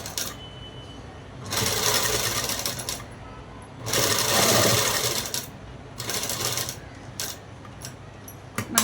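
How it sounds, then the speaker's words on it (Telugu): Sewing machine stitching cloth in three bursts of rapid mechanical whirring, separated by pauses with quiet handling noises. "ఇలా ఉంచిన తర్వాత చూడండి ఇలాగా ఇక్కడ నుంచి కుట్టు వేసుకుంటూ వచ్చేసేయాలి"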